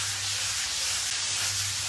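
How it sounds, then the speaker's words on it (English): Timber being lightly sanded by hand before hemp finishing oil goes on, a soft continuous scratchy rub close by with no pauses. "I'm gonna sand lightly all over"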